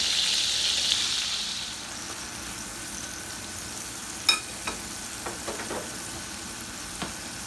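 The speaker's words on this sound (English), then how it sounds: "I'm going to show you guys how to caramelize your onions" Onions caramelize in a hot skillet for a patty melt: a hissing sizzle fades after the first couple of seconds, followed by quieter cooking and several sharp clinks and taps of a utensil against the pan, close by.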